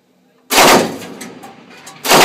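Gunfire in a tank video game: two loud, close cannon-like blasts, the first trailing off into a rumbling decay before the second shot hits sharply at the end.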